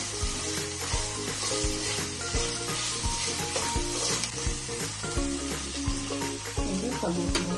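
Ingredients frying until golden brown in a pan while pasta is being cooked, a continuous loud sizzle with repeated stirring scrapes and clinks from a utensil.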